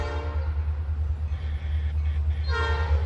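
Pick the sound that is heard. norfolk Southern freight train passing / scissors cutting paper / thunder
norfolk Southern freight train passing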